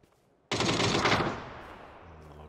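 A sudden loud burst of automatic gunfire in PUBG, sustained for about a second before fading into an echoing tail, with no voices.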